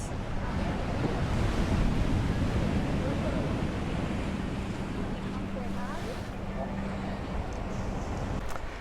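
Waves washing onto a beach beside the Los Gigantes cliffs in Tenerife, a continuous loud roar of surf blended with heavy wind buffeting the microphone throughout.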